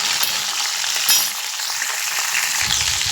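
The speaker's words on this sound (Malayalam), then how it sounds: "എണ്ണ കുറച്ച് ഒഴിച്ചിട്ടുണ്ട്. എന്നിട്ട് ആ പച്ചമുളക് ഞാൻ ആദ്യം ഒന്ന് ഇടുവാണേ." Green chillies fry in a little oil in an iron pan, giving a steady, close hissing sizzle throughout, with a brief louder flare and a low thump near the end.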